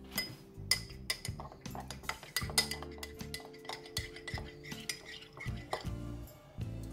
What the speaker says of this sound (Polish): Tak więc mąkę ziemniaczaną wymieszam z 1/4 szklanki soku.